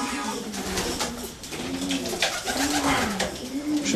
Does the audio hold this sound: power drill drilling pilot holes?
no